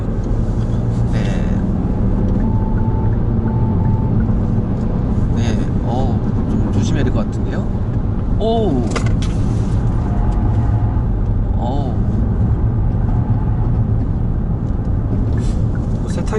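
Kia K5 1.6 turbo sedan driving through corners on a cornering test, steady engine and road drone throughout with a few brief higher whines, while people talk inside the cabin.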